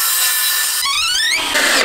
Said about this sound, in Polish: Pierwsza deska jest przykręcana.